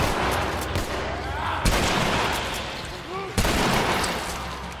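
A shotgun fires in the video game The Last of Us, two heavy blasts about two seconds apart, set against loud continuous game noise and background sound.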